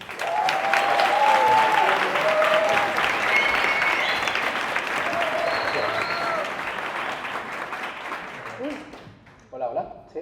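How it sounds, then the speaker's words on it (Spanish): A live audience at a talk on e-commerce and spatial computing applauds the arriving speakers, loud sustained clapping with a few cheers that fades near the end as voices begin. "un fuerte aplauso."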